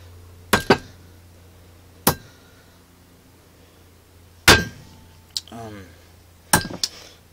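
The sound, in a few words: hammer hitting Ramune bottle opener to pop marble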